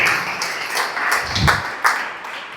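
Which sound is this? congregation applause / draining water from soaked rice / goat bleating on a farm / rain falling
congregation applause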